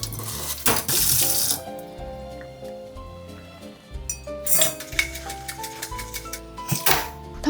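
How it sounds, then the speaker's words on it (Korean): A stainless steel scrubber with a little detergent shaken inside a tumbler of water, giving bursts of sloshing and metallic rattling clinks, close up, with no talk. "세제 조금 묻힌 스텐 수세미를 쏙 넣고 흔들어주기만 하면 소리 닿지 않는 구석까지 아주 간편하게"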